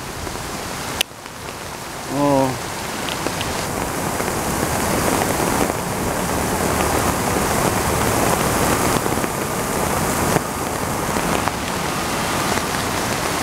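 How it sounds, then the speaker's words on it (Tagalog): Heavy afternoon rain pours in a dense, steady hiss on surfaces, loud and continuous, with a brief exclamation from a voice near the start. "Ang lakas na naman ng ulan."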